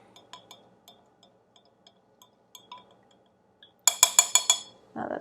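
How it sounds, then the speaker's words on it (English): A tablespoon clinks against a glass while bubble solution ingredients are mixed: a string of faint light taps, then a quick run of louder, bright clinks and a short wet swirl at the end. "after I put in the second tablespoon, I'm going to try and mix it all really well"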